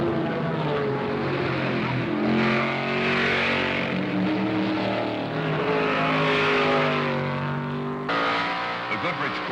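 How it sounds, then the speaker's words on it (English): A Goodrich Corvette racing at the 1973 Le Mans 24 Hours, engine droning steadily with shifting pitch over the whole stretch, loud and continuous beneath a commentator's voice, with a slight change in tone near the end. "The Goodrich Corvette is capable of speeds of over 200 miles an hour on the Mulsanne Straight."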